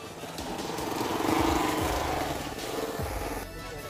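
A motorbike engine revs and labours while riding through mud on a rough rural road near Kalnadi, a steady, loud, close drone that swells in the middle and dips near the end.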